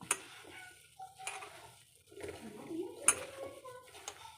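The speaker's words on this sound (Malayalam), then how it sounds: "ഇനി ഇതിനെ ഞാൻ നല്ലവണ്ണം ഒന്ന് ഇളക്കി എടുത്തു വെക്കട്ടെ" Soya chunks being dry-roasted and stirred in a pan, heard as faint, sparse clinks and scrapes of a spoon against metal with quiet pauses between them.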